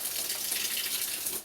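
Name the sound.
water running from a garden hose pipe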